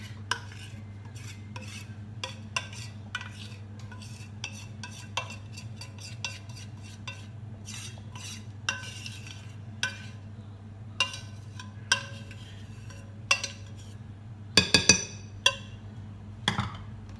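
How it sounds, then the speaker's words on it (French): A spoon stirs melted chocolate into a cheesecake batter in a bowl, giving a steady scrape and clink against the side. A few sharper knocks come near the end. "Je mélange le tout"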